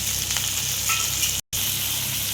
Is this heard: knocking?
no